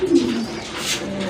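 Domestic pigeons coo close by in deep, throaty, rolling calls that swell at the start and continue steadily, with no talking.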